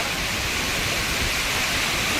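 Water crashes down Silver Falls in Kodaikanal as an unbroken, rushing wash of noise, loud and steady throughout.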